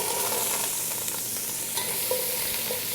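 Vegetables drop into hot oil in a crock pot and sizzle in a steady, close hiss, with a few light utensil clicks.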